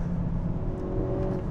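Hyundai Kona N hot hatch with a quick-shifting gearbox accelerating, a steady close engine rumble from inside the car with a faint rising tone, no talk over it.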